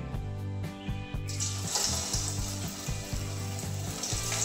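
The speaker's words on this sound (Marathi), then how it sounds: "तर त्याच तेलामध्ये आपण जे बाकीचे राहिले ते पण छान फ्राय करून घेऊ." Bread cutlets fry in oil over low heat, giving a steady close sizzle that starts abruptly and keeps on under a rhythmic, repeating background beat.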